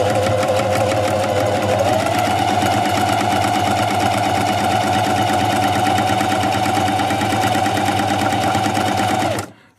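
A Singer 4423 sewing machine stitching a buttonhole runs loud and close with a fast, steady mechanical whir and rapid needle chatter for nearly ten seconds, then stops abruptly.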